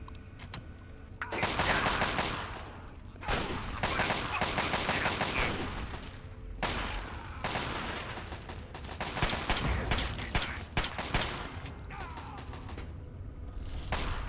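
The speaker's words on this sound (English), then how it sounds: "The turrets helped us kill the raiders" Automated turrets blasting away at raiders in Fallout 3, a dense, loud stream of rapid gunfire with brief lulls between bursts, heavy impacts and mechanical clatter mixed in, and no talk.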